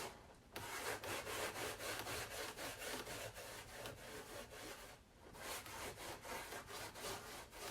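Continuous rubbing of wax paste into wood with a rag, a steady close scratchy swishing in rapid back-and-forth strokes with a brief pause near the start and another around five seconds.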